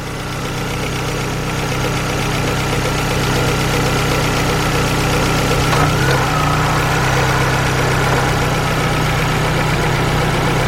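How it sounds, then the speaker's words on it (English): A 2002 Volkswagen Beetle with a 2.0 engine and an overheating problem idles steadily up close, a loud continuous engine drone, with a brief shift around the middle as the AC compressor and cooling fans engage. "let me cut the AC back on and let's see if the fans come on and the compressor kicks back in"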